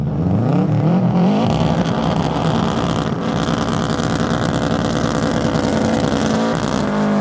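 Rally car at the snowy Rallye Perce Neige 2022 passing at speed, a loud, continuous engine roar rising and shifting in pitch as it goes by up close.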